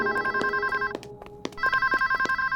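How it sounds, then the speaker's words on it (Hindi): A telephone rings repeatedly with a bright electronic trill, loud and close, pausing briefly before ringing again, with faint clicks between. "संतु फोन देखो ना।"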